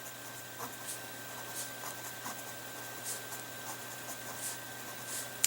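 A pen writes out maths working on paper, giving quiet, steady scratching strokes with small taps and pauses, faint and close against a low background hum.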